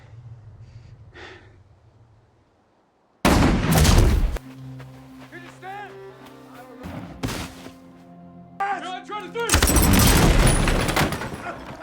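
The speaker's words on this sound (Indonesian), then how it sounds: "Cory datang menembak jarak jauh, berhasil menewaskan Dylan juga yang lain" Gunfire in a tense film scene: sharp loud gunshot blasts burst in abruptly after a quiet stretch, mixed with dramatic musical tones and heavy breathing, with another loud volley near the end.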